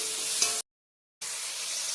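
Tomatoes frying in a pan while cooking paneer and pea ghugni, giving a loud, steady bright sizzle that cuts out briefly for about half a second before resuming.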